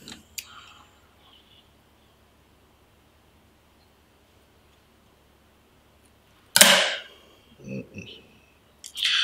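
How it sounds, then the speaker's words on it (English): A fishing line's tag end being snipped off after tying an FG knot, with a few sharp cuts and rustling handling noises separated by a long quiet stretch. "All you got to do is cut off your tag line."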